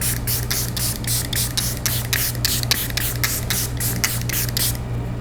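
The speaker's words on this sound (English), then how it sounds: "I'm gonna go ahead and put the One Size setting spray all over the face" One Size makeup setting spray misted across the face in a quick series of about a dozen short, close, hissing bursts with no talking.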